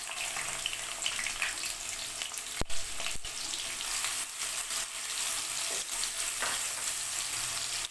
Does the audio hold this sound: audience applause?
no